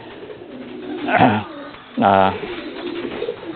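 A tomprang high-flying racing pigeon named Marcopolo gives two short cooing calls about a second apart, close and moderately loud over a low background hum, with a brief spoken word mixed in.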